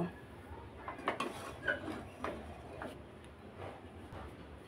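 Cooked semolina dough is scraped from a pan into a bowl, giving a string of soft metallic clinks and scrapes of utensil against cookware, close and moderately quiet, with no talk.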